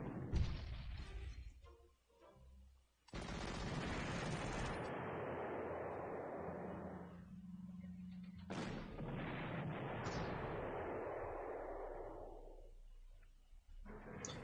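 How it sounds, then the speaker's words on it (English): Artillery fire in a World War II strategy video game, with loud booms and long rolling rumbles that overlap and fade, plus sharper bursts near the start, all with no talking. "So now the artillery's in range again"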